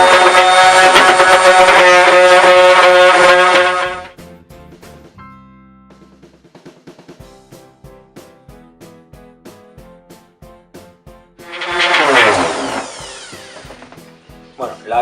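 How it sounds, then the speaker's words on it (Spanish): Parkside orbital sander working a piece of unsanded wood: a loud, steady motor whine and sanding hiss for about four seconds, a quieter stretch of ticking, then a second burst as the tool spins up again. "si cogemos un trozo de madera, aquí vemos que está sin lijar. Vamos a ver cómo lija."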